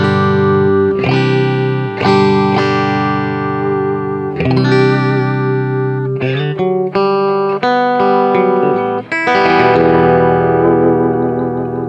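Electric guitar played through a 1969 Fender Pro Reverb amplifier, with a 1982 Schecter Strat-style guitar with Koa body, maple neck and early-80s EMG pickups: loud, sustained chords and ringing notes with effects, played alone and close.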